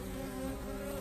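Honey bees hum steadily at the entrance of a hive in spring swarm season, a close, continuous low drone with no talking.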